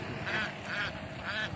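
Ducks grazing on leftover rice in a paddy field give three evenly spaced nasal quacks, moderately close against a soft outdoor background.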